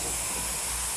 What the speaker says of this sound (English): This is attached to a compressor, an air compressor, so it's got a lot of power.